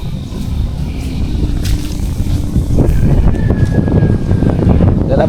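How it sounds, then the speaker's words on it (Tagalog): Strong wind roars steadily into the microphone outdoors near high water by the sea, a loud continuous rushing buffet that swells slightly partway through. "Lalabasan ako kaso malakas ang hangin."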